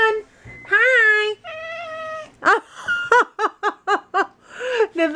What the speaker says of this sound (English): Now that is a show cat, if I've ever seen one.